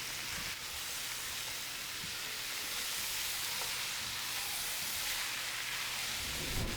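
Butternut squash and onions sizzle steadily in a hot pan, a continuous bright hiss with faint pops, even in level from start to finish and without voices.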